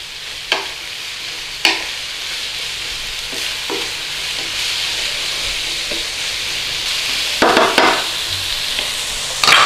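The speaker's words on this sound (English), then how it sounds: "the onions, when they're cooking in that butter and they're going translucent" Onions softening in butter in a frying pan for a Lancashire hot pot, a steady close sizzle and hiss with a few sharp clatters of a spoon or spatula against the pan, no talk.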